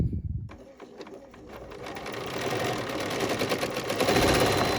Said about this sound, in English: So I'm going to press my thread cutter and maybe come back to this one.